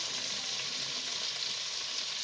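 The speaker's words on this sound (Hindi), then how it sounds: "टमाटो डालकर इसको अच्छे तरीके से मिक्स करेंगे" Tomatoes and onions fry in a pan, giving a continuous faint sizzle that stays even from start to end.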